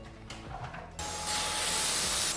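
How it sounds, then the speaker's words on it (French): A cordless vacuum cleaner sucking up a line of lentils starts with a click and then swells to a loud, steady hissing roar with a thin whine, with faint clatter before it starts. "Et monsieur, bah, il a son aspirateur sans fil."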